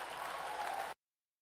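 Political event audience clapping and cheering: a steady wash of applause and crowd noise at moderate volume that cuts off abruptly partway through, followed by silence.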